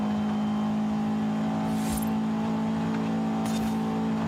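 A 1994 Mazda Miata's engine in Forza Horizon 5 hums at a steady, fairly high pitch, loud and close, with two brief sharp bursts suggesting quick revs or shifts.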